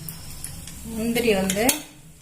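Cashews sizzle in hot ghee while a spoon stirs and scrapes the pan, a soft close-up frying hiss with a few brief metallic clinks.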